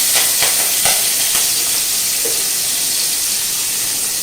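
Green chilli, ginger and garlic hiss and sizzle in oil after the frying of gobi for Manchurian, a loud, steady close frying sound with a few sharp stirring clicks early on and no talk.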